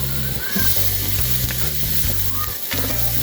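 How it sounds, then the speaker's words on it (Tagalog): Ginger and garlic sauté in hot oil for a chicken dish, a loud, dense sizzle with brief stirring scrapes and a low steady hum underneath, no voices. "igisa natin ang luya. Ganda rin natin ang bawang."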